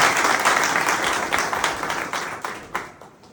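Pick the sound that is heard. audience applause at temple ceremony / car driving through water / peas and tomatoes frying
audience applause at temple ceremony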